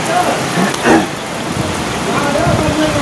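Rain pours steadily outdoors in a broad, even hiss, with faint voices and a passing vehicle-like rumble mixed into the wash.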